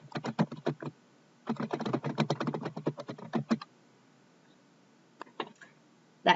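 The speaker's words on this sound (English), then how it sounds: "I'm just going to type in the administrator's email" Rapid clicking keystrokes on a computer keyboard while typing an email address, close and clear in quick bursts with a pause before a few final taps.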